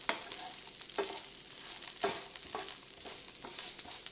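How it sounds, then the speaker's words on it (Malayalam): Coconut pieces fry in oil toward golden brown for a beef ularthu, a soft, fairly quiet sizzle punctuated by a few distinct stirring clinks and scrapes, with no talking. "ഒരു ഗോൾഡൻ ബ്രൗൺ ആവുന്നിടം വരെ നമ്മൾ ഈ തേങ്ങാക്കൊന്ന് ഫ്രൈ ചെയ്യണം."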